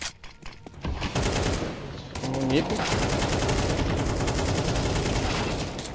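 Sustained automatic gunfire from a shooter video game, dense and loud, rattling continuously near a bell tower setting, with a voice speaking briefly over it.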